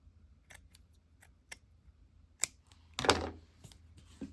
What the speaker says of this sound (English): Let me just trim it. I'll trim it right before those flowers here.